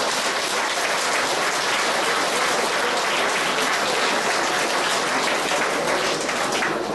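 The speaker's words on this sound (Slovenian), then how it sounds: "Počastimo jo z enim močnim aplavzom." An audience at a seniors' club festival gives strong applause, a dense and steady roar of clapping that stays loud and even throughout, with no talk over it.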